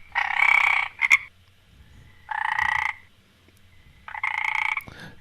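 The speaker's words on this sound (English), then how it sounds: "So this is the the frogs. Got all the frogs." Frog croaking cue designed for a forest village game scene: three loud, raspy croak bursts with brief gaps between them, close and clean against near silence.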